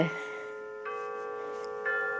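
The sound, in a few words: chimes ringing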